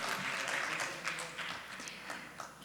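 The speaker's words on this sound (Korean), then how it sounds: "네, 박수 부탁드리겠습니다." Light audience applause at a conference keynote session in Goyang, South Korea, soft scattered clapping at a distance fading in and out, with a sharp louder burst at the very end.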